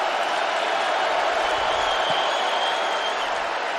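A steady roar from a stadium crowd at an NFL football game between the Seahawks and Saints, a dense, continuous wash of cheering and applause filling the whole stretch, loud and even with no voices standing out.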